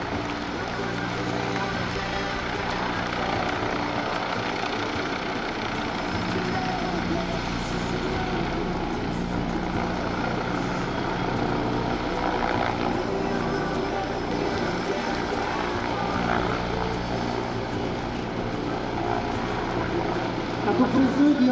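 An A129 Mangusta attack helicopter runs at the Jesolo air show, its steady rotor and turbine drone filling the air while an announcer talks over it on a public address system.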